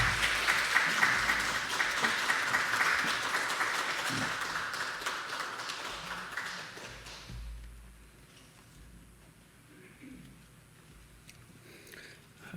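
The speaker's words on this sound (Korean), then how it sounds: "우리 나오실 때 박수 한번 하십시다." A congregation at a Sunday church service applauds in a dense, moderately loud burst that gradually thins out and fades into quiet room noise.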